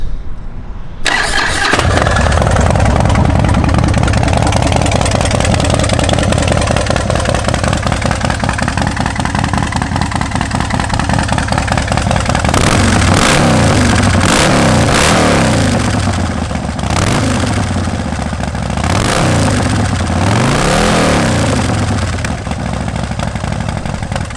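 A 2008 Harley-Davidson Softail Custom motorcycle engine cranks and fires after a moment of silence, then settles into a loud, close, lumpy idle before a series of sharp throttle revs that rise and fall repeatedly.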